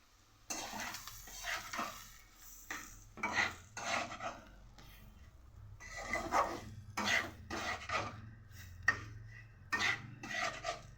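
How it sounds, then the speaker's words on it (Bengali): Semolina is roasted with vegetables in a pan, with intermittent scraping, stirring and rasping of a spoon against the pan in irregular bursts, close and fairly soft. "সুজিটাকেও ভালো করে ভেজে নেব।"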